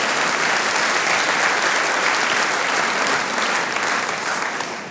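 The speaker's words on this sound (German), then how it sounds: "einen riesen Applaus für die Technik" A large audience applauds the technical crew at a live show in Hamburg, with sustained dense clapping that stays loud and even before starting to fade near the end, no speech on top.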